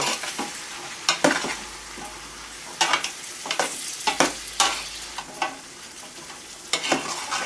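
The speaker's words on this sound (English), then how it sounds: "We're just gonna saute this together." Green beans sauté in a pan over medium-low heat, with bacon and garlic butter, giving a steady close sizzle broken by several loud scraping stirs and clanks at irregular intervals.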